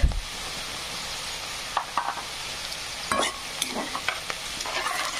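Chopped onion frying with salt in a pan for a sprouts gravy, a steady close sizzle with occasional sharper scrapes and stirring clinks, no voices.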